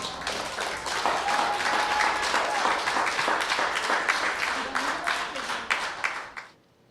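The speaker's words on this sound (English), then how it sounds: "Can we give them another big round of applause?" An audience applauds after a spoken word performance at a café venue, a dense, sustained round of clapping that carries on for several seconds, then fades out quickly.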